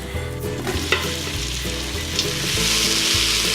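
Onions sauté in olive oil in a hot pot for a Tuscan beef and pepper stew, giving a steady, close sizzle that swells louder toward the end, with no talking.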